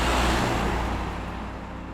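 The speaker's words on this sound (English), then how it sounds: "Trucks." A truck passes on the Nullarbor highway in strong wind, a loud roar right at the start that slowly fades as the vehicle moves away.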